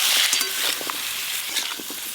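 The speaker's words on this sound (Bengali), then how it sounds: "আজকে ঝিঙে আর আলুগুলো একসঙ্গে ভেজে নেব" Ridge gourd and potato pieces frying together in hot oil with turmeric and salt, a dense, close sizzle with scattered crackles and stirring scrapes, continuous and fairly loud with no voices.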